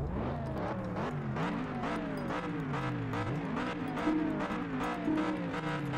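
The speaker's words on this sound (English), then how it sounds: "Next up, Dodge Viper SRT10." Dodge Viper SRT10 engine in the Test Drive Unlimited racing game, a steady loud drone with repeated rising revs and gear shifts throughout, no voices.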